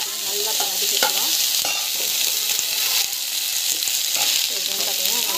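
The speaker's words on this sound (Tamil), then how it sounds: "ஸோ நல்லா வதக்கிக்கலாம்." Ingredients, including garlic, are sautéed in a pan for a thyroid-friendly dish, with a loud continuous sizzle and frequent scraping and clinking from a spoon stirring against the pan; a voice speaks briefly in places.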